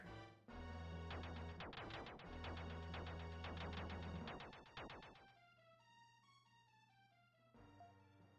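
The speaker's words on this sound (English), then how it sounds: "This vibrating sound. It's Morse code." Beeping electronic tones in the video game Illusion of Gaia, a Morse code signal ringing out in quick repeated pulses over sustained low game music, fairly faint.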